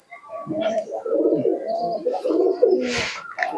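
Akash Pukuri Andra pigeons cooing close by in a continuous burbling run of soft, throaty calls lasting a few seconds.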